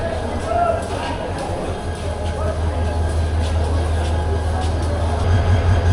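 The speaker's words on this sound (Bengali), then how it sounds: "উপবন এক্সপ্রেস এখন চলে যাবে ঢাকায়।" Upaban Express passenger train departing for Dhaka on the Sylhet route, a steady loud rumble of wheels and carriages with constant low-end drone and no clear talk over it.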